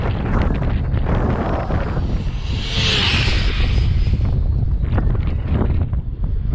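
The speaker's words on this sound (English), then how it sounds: "excuse the wind" Wind buffets a microphone outdoors with steady, heavy rumbling gusts and loud close whooshes that swell and ebb for several seconds, and no other sound comes through.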